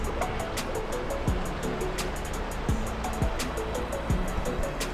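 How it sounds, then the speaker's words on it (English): Whitewater rapids on the Chattahoochee River, a steady broadband rush of water heard nearby and continuous, with a few low swooping tones passing through. "we have made it to the first set of rapids"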